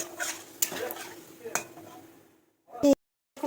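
Spiced tomato masala with salt and turmeric being stirred in a pan, a spoon scraping and clinking against the metal in a few distinct strokes, with low background noise and a sharp clatter near the end.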